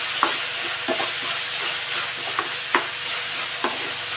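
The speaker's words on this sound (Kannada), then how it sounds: "ಈಗ ಇದಕ್ಕೆ ತೆಂಗಿನ ತುರಿ ಹಾಕೋತಾ ಇದ್ದೀನಿ ತೆಂಗಿನ ತುರಿ ನಾನು ಲಾಸ್ಟ್ ಹಾಕೋತಾ ಇಲ್ಲ ಸ್ವಲ್ಪ ಇದರಲ್ಲೇ ಫ್ರೈ ಮಾಡ್ಕೋತಾ ಇದ್ದೀನಿ" Grated coconut fries in a pan for Bombay sagu, a steady sizzle running throughout while a spatula scrapes and stirs in roughly regular strokes every second or so, close and moderately loud with no talking.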